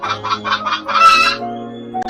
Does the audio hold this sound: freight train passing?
no